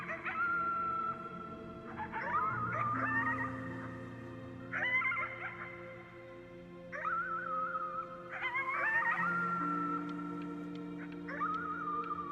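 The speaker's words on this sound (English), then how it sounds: "You howled at the moon at the top of your lungs" A character howls at the moon at full voice in the video game Before Your Eyes, long wavering howl-like cries rising and falling in several bursts over steady sustained background music.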